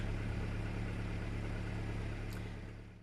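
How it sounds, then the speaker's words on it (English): A car engine warming up at idle gives a steady, loud, close rumble that holds constant for about three seconds before easing off slightly at the end. "You can hear the car warming up."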